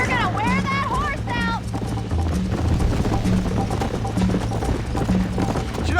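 Horse galloping in the Red Dead Redemption video game, rapid rhythmic clip-clop of hooves running continuously under voices talking and faint ambient game sounds.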